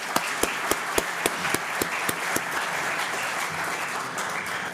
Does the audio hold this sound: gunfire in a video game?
no